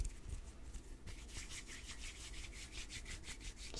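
Hands rubbing together close to the microphone, a quiet, continuous dry swishing friction with a steady back-and-forth texture and no speech.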